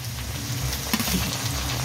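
Green chili and garlic paste hit a pan of cooked onion-tomato masala for a stuffed pointed gourd curry, giving a soft steady sizzle with faint crackles and a brief stir, moderately quiet and alone.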